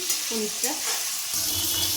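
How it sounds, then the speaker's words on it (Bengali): Paneer frying in oil for a vegetarian biryani, a dense, close, continuous sizzle with brief scraping and stirring touches against the pan and no talking. "পনিরটাকে একটু নাড়িয়ে চাড়িয়ে আমি তুলে নেবো। বেশি কড়া করে ভাজবো না আমি"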